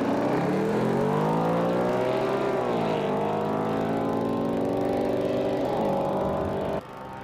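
Modified drag racing cars at a quarter-mile strip, engines screaming loudly as they accelerate, a steady high roar with rising and falling pitch sweeping for several seconds before cutting off abruptly near the end.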